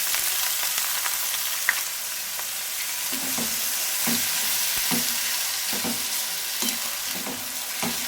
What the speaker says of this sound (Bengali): পেঁয়াজটা নরম হওয়া পর্যন্ত অপেক্ষা করব একটু লাল লাল ভাজা হবে